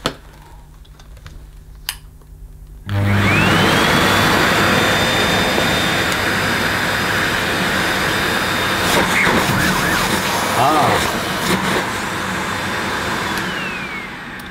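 A Sebo Felix Classic vacuum cleaner under fault-finding is switched on after a few quiet seconds and runs with a loud, steady motor roar and a high whine, easing slightly near the end.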